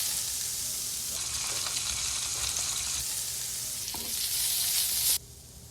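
Spam slices fry in a hot pan with a loud, steady, close sizzle that swells slightly near the end before cutting off abruptly.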